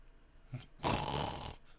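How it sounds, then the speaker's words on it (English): A single snore from a visual novel sound effect, a short faint grunt and then a breathy rasping inhale under a second, alone and quiet. "Snoring."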